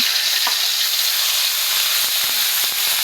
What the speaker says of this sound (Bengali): মশলাটা দেওয়ার আগে আমি কিছু গোটা মশলা আগে দিয়ে নিচ্ছি।